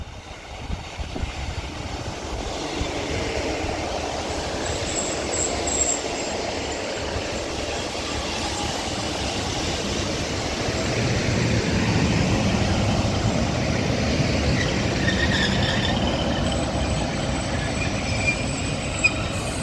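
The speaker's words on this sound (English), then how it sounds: "when this double 156 departs" A double Class 156 diesel train departing Birchwood station in Cheshire, a broad rumbling engine drone building louder midway with faint rail clatter and a thin wheel squeal, nearby and without voices.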